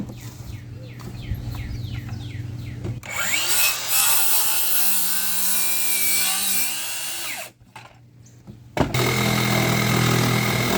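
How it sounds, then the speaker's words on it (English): A Sawzall reciprocating saw buzzes loudly through a pool deck board for several seconds after some quieter handling noise, then stops briefly before a low hum and clatter return. "I'll nibble these 2 ends off here. To about there, and I'll finish with the Sawzall"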